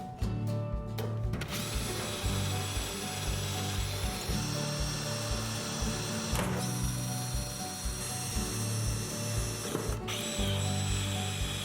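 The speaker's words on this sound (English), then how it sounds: "Then I use the step-up drill bit to remove the hinges to make it easier to paint." Continuous loud mechanical whirring and grinding of a power drill with a step drill bit running through metal hinges on a cabin, with brief pauses and ratcheting clicks.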